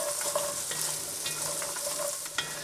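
Diced carrots and celery being stirred in a soup pot, a steady sizzle with soft scraping strokes and a few light knocks of the spoon, close and continuous, no voices.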